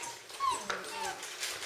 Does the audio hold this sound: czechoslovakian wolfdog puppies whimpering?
yes